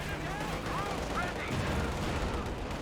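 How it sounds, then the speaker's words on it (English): Gunfire and explosive weapon fire from a Company of Heroes 2 battle with a Panzerfaust firing, a dense, steady wall of shots and blasts running throughout at constant loudness, with faint talk in the mix. "Panzerfaust's firing"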